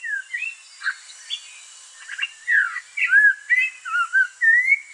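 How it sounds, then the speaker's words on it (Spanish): A brown thrush (mirlo café) in cloud forest gives a series of clear, sliding whistled calls, repeated in short bursts at close range with no other sounds around. "un ave residente común en el bosque de niebla y a la que se le reconoce por sus constantes llamados de atención ante la presencia de extraños"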